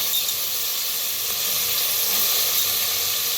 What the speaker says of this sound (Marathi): त्याला भाजून घेऊया कांद्याबरोबर